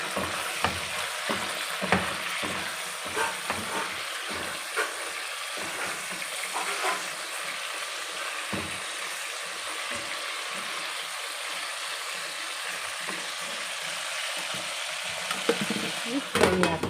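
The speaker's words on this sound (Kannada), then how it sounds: "ಉಪ್ಪು ಹಾಕ್ಬಿಟ್ಟು ಚೆನ್ನಾಗಿ ಫ್ರೈ ಮಾಡ್ಕೊಳ್ಳೋಣ" Masala with salt frying in a pan for a brinjal gravy, a steady soft sizzle with repeated scraping and stirring clicks throughout, fairly quiet and close.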